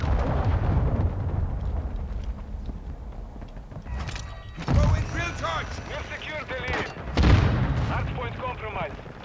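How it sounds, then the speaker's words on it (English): A cruise missile strike in the video game Call of Duty: Modern Warfare, heard as two heavy low booms a couple of seconds apart over steady battle noise, with voices talking throughout. "Friendly cruise missile deployed."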